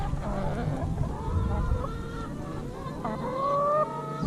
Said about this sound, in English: So chickens tend to follow you. As you see, they're quite curious.